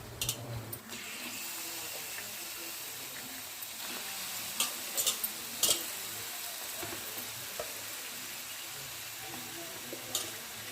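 One kilogram of chicken frying in a pan with browned onions for Sunday chicken curry, a steady sizzle with occasional clinks and stirring knocks from a utensil, close up.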